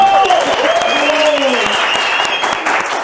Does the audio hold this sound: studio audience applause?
yes